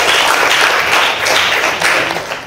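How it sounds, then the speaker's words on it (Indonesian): A classroom of students gives loud, dense applause that goes on without a break and tapers slightly at the end. "Tepuk tangan buat Elki dan."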